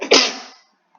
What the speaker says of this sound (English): I got a little sneeze there.